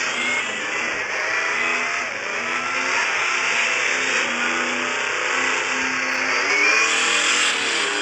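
A new truck in a video game revs its engine loudly and continuously, a steady roaring drone with a slight rise in pitch near the end and no voices.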